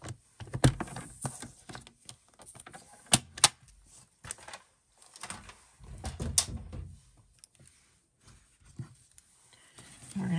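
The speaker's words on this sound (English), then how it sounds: "I'm gonna cut an inch strip" Patterned paper is cut into a one-inch strip for a handmade card, giving a run of sharp, close clicks and crisp rustles in irregular bursts with short quiet gaps.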